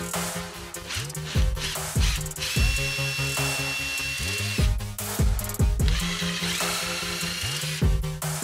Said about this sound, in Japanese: あとは印をつけて下穴を開けます。